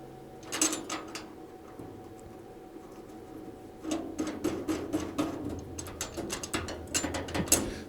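A knob being screwed onto the ash dump of a Camp Chef Woodwind 24 Pro pellet smoker, giving short metallic clicks and scraping taps in two clusters, close and fairly quiet, with no talking.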